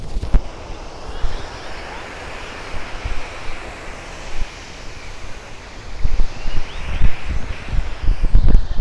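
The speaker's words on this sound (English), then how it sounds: "but this is the waterfall that I was talking about" Water from a waterfall and stream rushes continuously in a steady broadband wash nearby, with occasional louder low gusts and bumps near the end.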